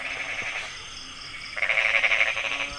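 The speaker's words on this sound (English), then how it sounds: "What a sound for a frog to make." A frog gives repeated croaking calls in a rising, pulsing series, loud and close, with a brief quieter stretch before a busier burst of calls from competing frogs.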